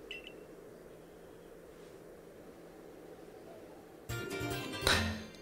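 Electronic phone beeps in the video game Pokemon Legends Arceus, a faint short tone at the start, then a louder burst of bright bleeps and a chime near the end over a low steady background hum.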